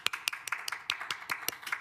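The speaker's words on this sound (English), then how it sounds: "cheers, claps." Applause for city clerk staff at a council meeting, a handful of people clapping in a quick, uneven rhythm, clear and moderately close.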